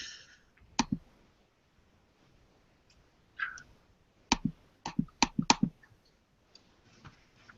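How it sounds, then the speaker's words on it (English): Loud, sharp clicks come in irregular bursts, a few spaced apart and then a quick cluster of five or six in close succession, against a quiet background with no voices. "Some loud clicking."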